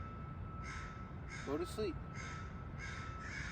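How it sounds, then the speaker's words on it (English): Several crows caw at night, a short burst of harsh calls in the middle standing out against steady background noise, while a person speaks quietly. "I think that that murder of crows should be asleep right now"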